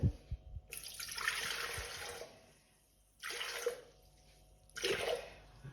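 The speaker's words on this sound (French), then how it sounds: "là, on met 400 g d'eau dans le bol" Water pours into a Thermomix bowl, 400 g measured in for cooking cauliflower, in three separate close bursts of splashing, with quiet pauses between them.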